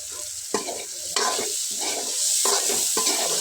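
Onion, garlic, turmeric, chili and coriander spices frying in oil for a kajoli fish and green banana dish, a close sizzle punctuated by repeated spatula scrapes and stirring knocks, with no talking.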